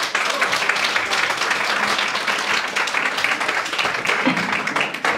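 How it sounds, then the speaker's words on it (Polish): An audience at a live music event in a community cultural centre applauds the musicians, a dense, steady burst of many hands clapping that holds at full strength throughout, with a few faint voices mixed in. "No cóż, proszę Państwa, wielkie brawo dla chłopaków."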